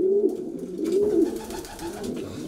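Pigeons in a racing pigeon loft coo close by, with repeated low rolling calls over a steady murmur of other birds and no talk.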